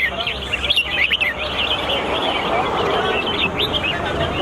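Red-whiskered bulbuls sing at a bird singing contest in Thailand, with bright, overlapping chirping phrases repeating over a steady crowd murmur, with some voices in the background.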